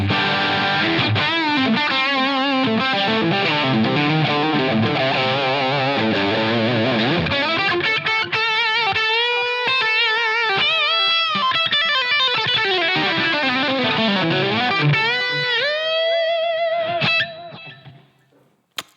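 Electric guitar through a Line 6 Helix Brit 2204 amp model, based on a Marshall JCM800, set for distortion: loud, continuous driven chords and sustained bends, ending in a fading ring-out.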